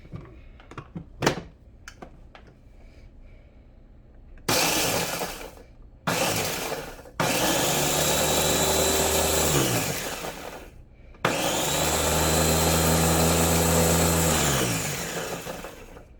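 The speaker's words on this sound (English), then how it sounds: "I'm gonna just give it a couple whirls with the blender" A blender whirs in two long loud bursts with short pauses, chopping dehydrated spinach into powder, preceded by a few sharp clicks and taps.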